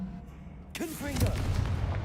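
A Confringo spell in Hogwarts Legacy bursts into a heavy booming blast with a crackling, rumbling tail, loud and close, with a brief vocal sound mixed in as it goes off.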